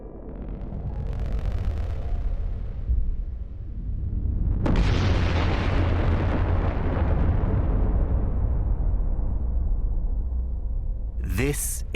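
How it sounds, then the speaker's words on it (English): A deep, sustained roar stands in for a Type 1a supernova, an exploding star, rumbling loudly for several seconds before a sharp blast that swells into a long, rolling, decaying boom. "This is a Type 1a supernova, an exploding star."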